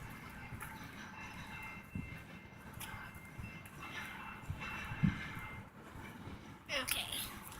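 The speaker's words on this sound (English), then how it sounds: "Thanks for watching this extremely close, but not as close as the other time, to BNSF Grain Train." A BNSF grain train rolls past at close range, giving a continuous broadband rumble and rattle of railcars with scattered clanks, fairly distant-sounding in level, with no clear talk over it.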